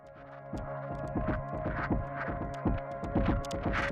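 A processed drum beat from the Field Tone DATA sample pack runs through effects as a steady, throbbing rhythm of thumping hits layered over a droning hum. It stays moderately quiet throughout.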